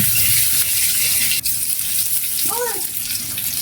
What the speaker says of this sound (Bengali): তেল দিয়ে একটু ভেজে নিচ্ছি